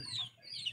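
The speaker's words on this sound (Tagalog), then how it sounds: "Tingnan nyo ang ano, ang manok." Domestic chickens clucking close by in a backyard setting, a couple of soft clucks spread across a brief moment with no talking.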